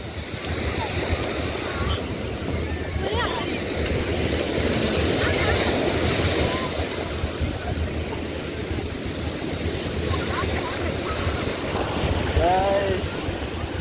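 Sea waves splash and wash steadily near an outdoor shoreline, a continuous loud surge with a few swells rising above the rest, and a faint voice or two mixing into the roar.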